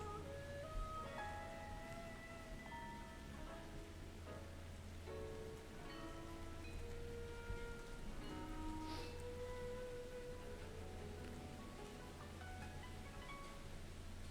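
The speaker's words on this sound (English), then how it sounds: "It's raining pretty decently outside." Steady rain falls outdoors, a soft continuous patter heard indoors at moderate distance, constant throughout with a low hum underneath and no talking.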